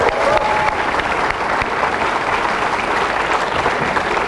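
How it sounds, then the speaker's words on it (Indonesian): An audience applauds in a dense, sustained wash of clapping that stays loud and even from start to finish. "Tepuk tangan dong buat Ibu Megakarti ya."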